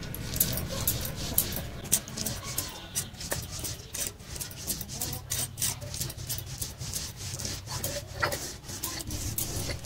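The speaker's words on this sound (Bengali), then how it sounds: "অনেকক্ষণ ধরে মা চালগুলো গুঁড়ো করছে।" Rice is ground by hand into flour for making pitha, giving a continuous close scraping and grinding rub with small irregular knocks throughout.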